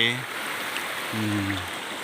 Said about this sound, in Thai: ทานน้ำไหลมาจากตาน้ำใหญ่